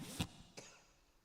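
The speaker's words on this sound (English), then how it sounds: "that's really bad cough" Two sharp coughs, close and a moment apart, the first harsher, followed by quiet.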